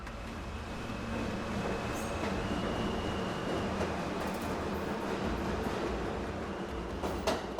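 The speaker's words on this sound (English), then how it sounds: "and the subway leaves." A subway train rumbles steadily on its rails with clattering wheels and faint metallic squeals, loud and close throughout.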